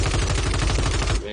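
A rapid burst of automatic gunfire in the video game Call of Duty: Warzone, loud and continuous for about a second before cutting off.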